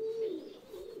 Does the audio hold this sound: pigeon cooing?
yes